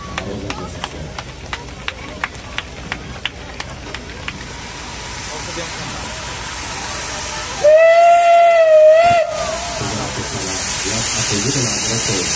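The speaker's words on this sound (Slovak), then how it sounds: "Zapískaj nám mazutka ešte raz." A steam locomotive sounds a loud, clear whistle blast of about a second and a half, following a stretch of rhythmic chuffing and hiss and some speech, with steam hissing on afterward.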